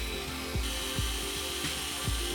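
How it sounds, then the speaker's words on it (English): A power drill whirs steadily with a loud mechanical hum, its pitch dipping in a few periodic surges as it spins. "we're going to use the drill for this"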